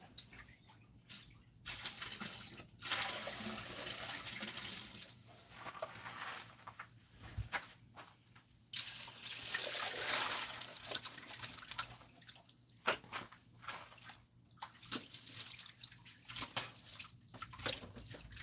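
Dirty water splashes and sloshes while gold-panning concentrates are worked through a screen and pan, coming in repeated bursts of pouring and dripping close by with no talking.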